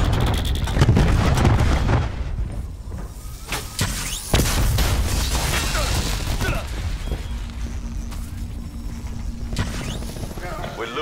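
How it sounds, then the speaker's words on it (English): Grenade explosion in Call of Duty: Black Ops 4, a loud boom followed by a second heavy blast and scattered gunfire, with rumbling battlefield noise trailing off over several seconds. "Grenade going out."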